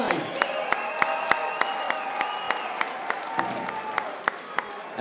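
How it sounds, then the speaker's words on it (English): An arena crowd at an MMA event claps and cheers for two fighters after a bout, with sharp individual claps standing out over a steady murmur of crowd noise and voices. "give these two fighters a big round of applause tonight"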